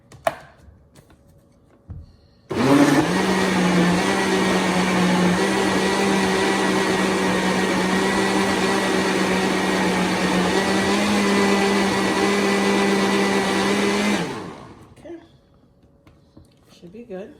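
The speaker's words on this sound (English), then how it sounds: "I'll take the lid off and see if I need to blend it up some more before I strain it off" A blender whirs steadily and loudly for around twelve seconds as it purees ginger, apple and carrot for juice, then spins down, with some brief handling noises and quiet kitchen sounds before and after.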